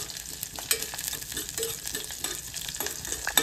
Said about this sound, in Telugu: కొంచెం జీలకర్ర చిట్పట్లాడినాక వేయాలి. వెల్లుల్లి రెబ్బలు కూడా వేయాలండి.